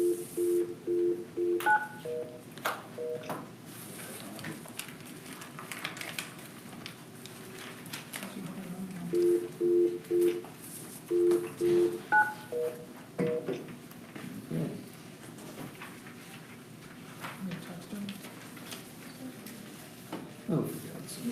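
Telephone keypad tones beep in quick clusters of several presses, then pause and repeat, under faint room chatter and low background voices.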